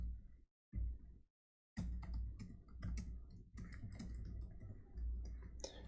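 Computer keyboard keys clatter in quick, uneven bursts broken by a couple of short pauses, close and moderately loud with no voices.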